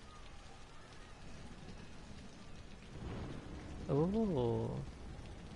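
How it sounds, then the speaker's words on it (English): In the city-building game Cities: Skylines, a low thunder rumble rolls under steady rain hiss, and a voice briefly exclaims near the end. "thunder."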